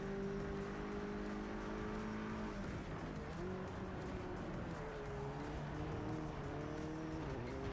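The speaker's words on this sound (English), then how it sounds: "Oh my god, someone spun out." Race cars roar steadily in a Project CARS 3 video game race seen from helmet cam, engine tones sliding up and down as one car spins out with tire squeal, loud and continuous with no talk.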